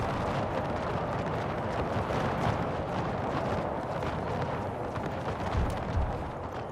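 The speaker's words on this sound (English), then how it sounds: "Cannons focusing on the pikes." Cannon fire in an Empire: Total War battle, heard as a steady rumbling barrage of booms blending into battlefield noise, with a heavier blast near the end.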